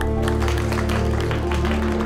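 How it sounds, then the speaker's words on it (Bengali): Dense, continuous applause from an audience, loud and steady throughout, blended with a strong tonal music bed underneath on a game-show style stage. "সবাই জোরে হাততালি দাও।"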